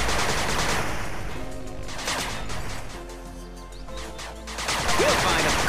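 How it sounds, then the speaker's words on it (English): A machine gun turret firing in the game 8-Bit Armies, rapid rattling bursts of gunfire that drop away briefly midway and then return, with brief game voice lines. "Machine gun turret under attack."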